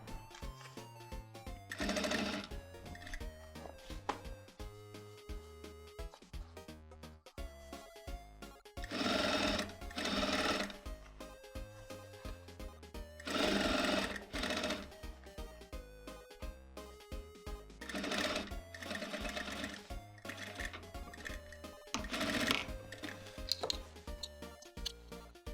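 A sewing machine stitches a jeans hem in short runs, quiet rhythmic whirring bursts separated by pauses with soft ticking and handling in between.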